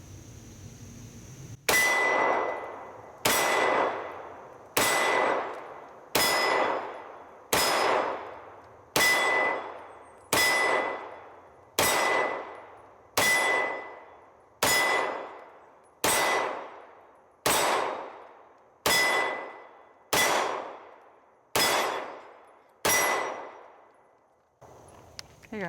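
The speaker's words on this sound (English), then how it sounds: "let's go with the Reflex XL, shooting for the center of the target." Fifteen evenly spaced FN Reflex XL pistol shots ringing off a steel target, each a sharp crack followed by a bright, decaying metallic clang, with a loud outdoor report and no talking.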